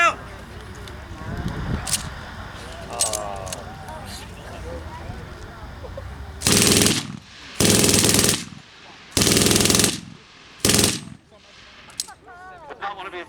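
Infantry weapons firing at a WWII First Special Service Force demonstration in Didsbury, Alberta: after a stretch of quieter background, several long, loud bursts of machine-gun and rifle fire crack out in quick succession, followed by one shorter burst.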